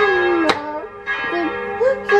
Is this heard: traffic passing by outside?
no